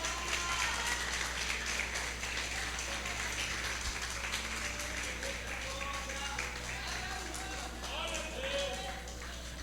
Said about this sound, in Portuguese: Aplaude ao nome de Jesus.